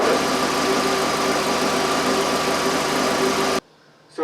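A car engine, its lifter tapping cured with Rislone, idles smoothly and steadily up close for several seconds before cutting off abruptly into near silence.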